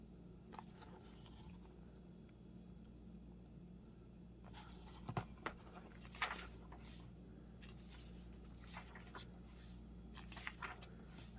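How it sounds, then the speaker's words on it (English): Faint papery rustles and soft flicks as comic book pages are flipped by hand in a quiet room, coming in a few scattered bursts with no talk. "I was hoping I could flip enough to get to some type of credits page"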